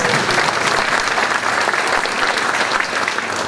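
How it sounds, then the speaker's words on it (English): An audience at a school spring concert applauds the 8th grade band, with dense, loud, continuous clapping from a crowd that holds steady throughout. "Another round of applause for them."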